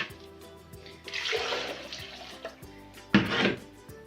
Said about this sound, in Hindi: इसमें ज़्यादा सारा पानी डालना होता है।